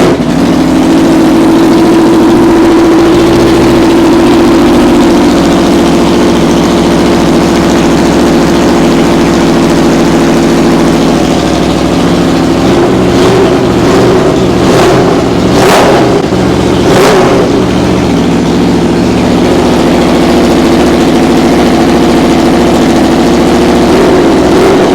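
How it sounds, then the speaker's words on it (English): A straight-piped Aprilia RSV4 motorcycle runs inside a garage, its exhaust loud and close in a steady rumbling idle, then several sharp rev blips come in quick succession midway before it settles back to idle. "let's turn on the Aprilia RSV4 real quick and listen to the exhaust noise inside the garage"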